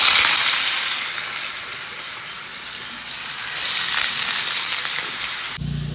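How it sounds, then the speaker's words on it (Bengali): Potatoes frying in oil in a home kitchen pan, giving a steady, close, hissing sizzle that runs throughout and swells slightly near the end before cutting off abruptly. "আলু ভাজা হবে, তার জন্য তেল দিয়ে দিয়েছি"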